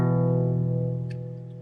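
A single acoustic guitar note picked with the thumb on the intro in standard tuning, rings out close and clear and fades slowly with no other sound.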